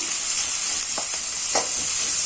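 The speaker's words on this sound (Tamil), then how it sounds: "நல்லா வெங்காயம் வதங்கட்டும்" Onions with curry leaves sauté in a pan for a simple chicken gravy, giving a steady, hissy sizzle throughout with a few soft scraping stirs near the middle.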